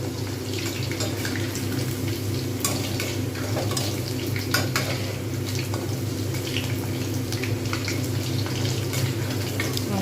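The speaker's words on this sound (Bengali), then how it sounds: "ভাজা হচ্ছে ঠিকঠাক কালার এসে গেলে ঠিকঠাক হয়ে গেলে কিন্তু এটাকে নামিয়ে নেব" Chicken pakora fritters deep-frying in hot oil at home, a steady dense sizzle and bubbling hiss throughout with a few faint clinks, no talking.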